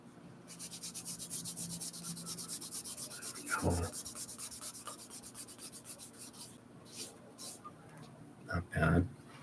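A makeup pad rubs dirt off a used book with a steady, rapid scrubbing rasp that runs through most of the stretch, broken by a few short, louder handling knocks.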